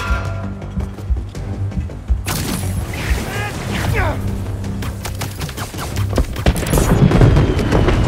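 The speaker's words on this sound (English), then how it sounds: "The fireworks! They're lit!" Fireworks burst in Marvel's Spider-Man 2, a dense run of loud bangs and crackling pops starting a couple of seconds in, layered over game music and effects with a voice talking throughout.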